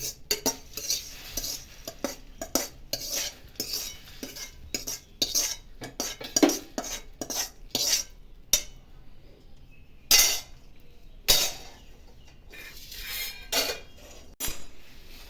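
Turmeric-coated heated puffed rice tipped into poha and mixed with a metal spoon, giving a steady run of clinks, scrapes and rustling crunches against a pan or bowl, close and fairly loud, with brief pauses.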